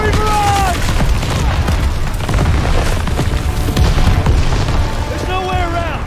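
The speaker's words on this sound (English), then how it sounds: "Artillery barrage!" Artillery barrage in a WWII video game set in the Hürtgen Forest, Germany: heavy booming explosions rumble continuously with rapid bursts, while voices shout over the bombardment.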